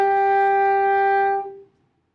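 A single sustained alto saxophone note, E, rings out clear and steady for about a second and a half, then stops cleanly.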